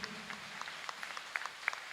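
A church congregation claps sparsely during a sermon, a few faint, distant claps scattered over a low hum of the room.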